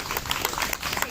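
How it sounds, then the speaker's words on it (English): Applause from an outdoor protest rally crowd for the day's speakers, a dense, steady patter of many hands clapping at moderate distance for about a second. "Can we give another round of applause to all the speakers that have been here today?"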